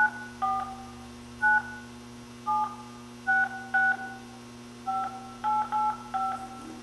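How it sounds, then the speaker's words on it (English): Touch-tone keys on a telephone dial a home number, producing about a dozen short, clear DTMF beeps in uneven bursts over a steady low hum, with no one speaking. "It would be nice to get John on the phone"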